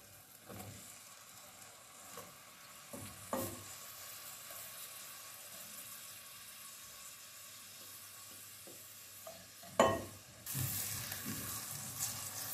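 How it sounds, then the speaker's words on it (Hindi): Tomatoes sizzle softly in a hot pan for tinde ki sabji, with a steady frying hiss broken by occasional scrapes and clinks of stirring and a louder burst of sizzle near the end. "जी अब हम टमाटर भी डाल देंगे।"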